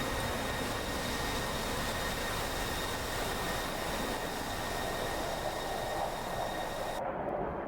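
An F-16 jet engine in a flight combat video game roars as a steady, dense broadband rush with a faint high whine, continuous and loud before cutting off abruptly near the end.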